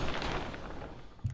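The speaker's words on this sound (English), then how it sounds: "the shower curtain on its own" A shower curtain recorded for an explosion tail: a continuous soft, rumbling rustle that holds steady at a moderate, fairly quiet level, ending in a brief low thump.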